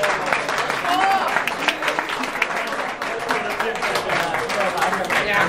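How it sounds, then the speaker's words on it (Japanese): A concert audience at Mihokan in Shimane gives steady, full applause that fills the room, sustained throughout with a voice faintly heard in the background. "それではマグロさんと黒田先輩に盛大な拍手をお願いします"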